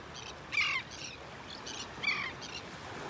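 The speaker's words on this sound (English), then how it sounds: "we've got some terns sitting down here with some seagulls" Royal terns and seagulls resting on a beach in North Naples, Florida give two short, harsh calls about a second and a half apart, moderately distant over a soft, steady wash of wind and surf.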